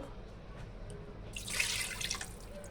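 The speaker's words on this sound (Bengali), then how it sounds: "এবার এই জলটা দিয়ে দেব" Water poured from a container into a pot holding katla fish pieces, about one and a half cups, a soft splashing pour starting midway and continuing steadily, fairly close and moderately quiet.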